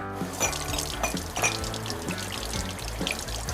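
Water pours and splashes steadily while cups are washed, a close continuous rushing stream with irregular clinks and gurgles, heard alone without talk.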